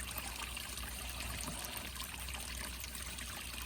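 Water swirling and draining away through an outdoor drain in a muddy yard, a continuous trickling, gurgling rush with a steady low rumble underneath, constant level throughout, no voices.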